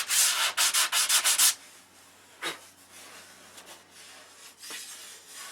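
Hand sanding of a surface to key it for primer, a quick run of about eight rhythmic scrubbing strokes followed by quieter scattered rubs and faint handling noise, close up with no voices.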